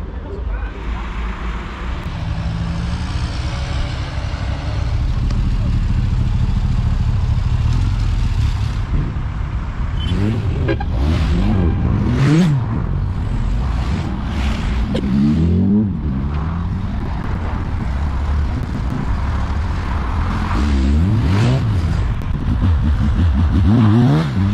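A VW Beetle with a 2.2 litre engine at an outdoor VW show, revving repeatedly in rising and falling sweeps amid steady background noise, with people talking nearby.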